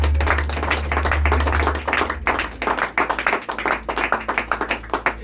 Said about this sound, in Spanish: Dale un fuerte aplauso para el Señor